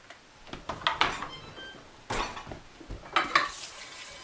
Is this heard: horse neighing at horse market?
no